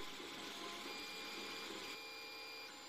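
Tevo Michelangelo 3D printer printing a robot chassis in orange PLA, its stepper motors whining in a steady close mechanical hum with faint tonal buzzing and a slight shift in pitch partway through.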